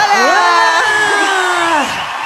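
Festival crowd at a concert in Las Condes whooping and cheering loudly, a steady wash of yells and screams lasting the whole moment with a host's voice sliding over it.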